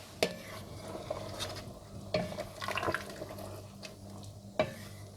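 Kashmiri gushtaba gravy simmering in a pot while being stirred: soft bubbling and a gentle sizzle beneath intermittent spoon clinks and scrapes against the pot, quiet and close, no talking.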